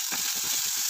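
Sizzling from a frying pan as tomato goes in with garlic and onion for an easy macaroni pasta, a steady broadband hiss with uneven low crackling bursts throughout.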